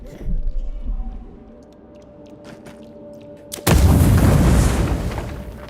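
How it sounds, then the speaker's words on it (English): A grenade goes off in the Avowed video game. Quiet low rumbling gives way to one sudden, loud blast, followed by a heavy roaring decay. "How about a grenade?"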